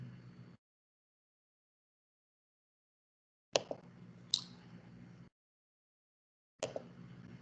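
Sharp, close computer mouse clicks come as isolated single clicks and one quick pair, separated by stretches of dead silence.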